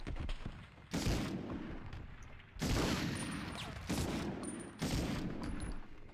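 Gunfire bursts from the Medal of Honor video game in a few loud, dense volleys that each last about a second or more and are separated by short gaps, with a continuous rumble of battle underneath.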